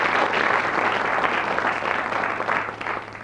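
A studio audience at a radio general-knowledge quiz bursts into sustained applause, a thick even roar of clapping that holds throughout and tapers slightly toward the end.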